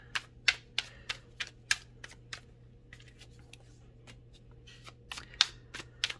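Tarot cards shuffled and snapped by hand during a reading, giving a string of sharp, close papery clicks in bursts with short pauses, alone without talk.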